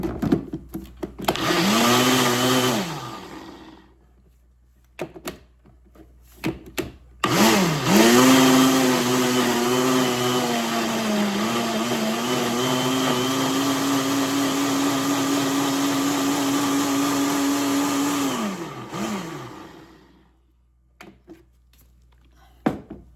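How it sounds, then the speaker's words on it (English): A kitchen blender purees tomatoes and onion in two runs: a short whirring burst, a pause, then a long steady loud grind that stops abruptly, with no talking. "So at first I'm gonna blend my tomato and my onion."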